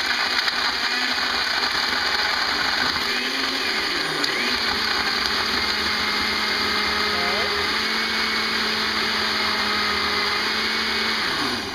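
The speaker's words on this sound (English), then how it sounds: "Beat the heck out of your blender." A blender runs steadily at full power, whirring loud and constant as it mixes an Oreo protein shake, with slight shifts in pitch as the contents churn.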